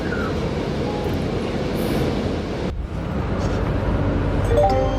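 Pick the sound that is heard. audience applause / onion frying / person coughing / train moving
train moving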